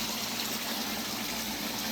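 Water splashes continuously into a newly built garden pond as a steady, close, broadband rush and trickle with no pauses or talk.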